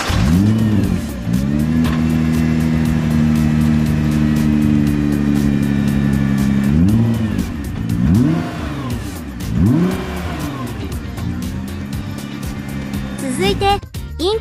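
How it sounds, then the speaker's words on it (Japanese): A Nissan GT-R sports car engine, 570 PS, idles with a low steady rumble, then revs sharply several times in rising and falling bursts before settling, loud and close. "エンジンオン"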